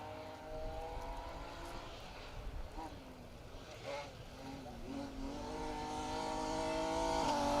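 BMW M3 compact rally car on a forest rally stage, its engine rising and falling through revs as it approaches, growing steadily louder toward the end, with a commentator talking over it.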